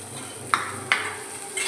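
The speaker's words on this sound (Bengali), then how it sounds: "এবারে এটা আমি নেড়ে চেড়ে জাস্ট একটু ফ্রাই করে নিই" Onion, a little garlic and a small amount of tomato fry with a steady sizzle in a pan while a utensil stirs them, giving three sharp scraping strokes against the pan over a continuous, close frying hiss.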